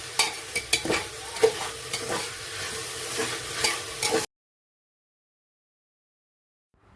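A spoon stirs paneer biriyani masala with tomato in a pan, giving close scraping and soft sizzling with irregular stirring knocks for about four seconds, followed by silence.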